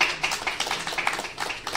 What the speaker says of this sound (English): A big round of applause for the Baron family.